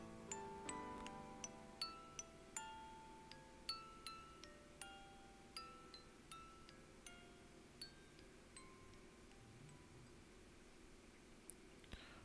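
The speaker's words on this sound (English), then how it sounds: "With one last quiet chime, the music box wound down." A music box in the video game Zero Escape: Virtue's Last Reward plays faint, sparse tinkling chimes, each note ringing out and spacing further apart as it winds down to near silence.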